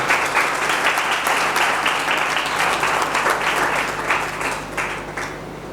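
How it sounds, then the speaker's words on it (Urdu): A church congregation claps loudly together, a dense, continuous round of applause with some rhythmic emphasis, steady for several seconds before tapering slightly, over a low electrical hum. "آئیں ہم خدا کے لیے اور سلویشن ٹی وی کے لیے زوردار تالیاں بجائیں"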